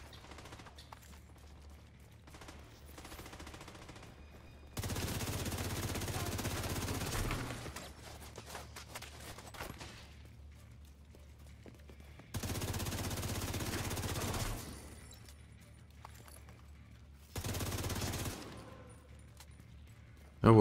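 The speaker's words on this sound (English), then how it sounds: "Dude, these guys are shooting from everywhere." Bursts of rapid automatic gunfire from the video game The Division 2, three long loud volleys separated by quieter stretches of faint game ambience.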